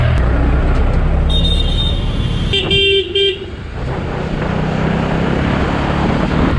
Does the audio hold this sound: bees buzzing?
no